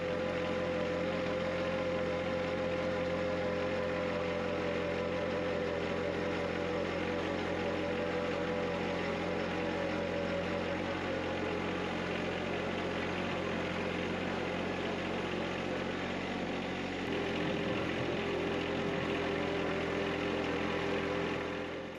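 A John Deere 1025R compact tractor engine runs steadily while clearing snow with its front bucket, a continuous mid-pitched drone with a faint whine, near and loud, shifting slightly in tone toward the end, with no talking.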